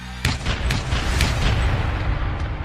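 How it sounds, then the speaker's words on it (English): A loud sharp bang followed by several more shots and rumbling blasts over a dense, noisy background, the gunfire repeating irregularly. "She hears gunshots."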